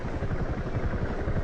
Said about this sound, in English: One of the best rendered helicopters I've ever had the pleasure of witnessing in sim racing